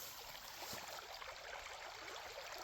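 Water flows steadily through a culvert that beavers had blocked, a continuous faint rushing and trickling with no talking.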